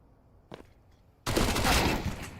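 A rapid burst of SMG fire erupts in a Counter-Strike match, a dense rattling stream of close, loud shots after a single earlier crack, with no talking.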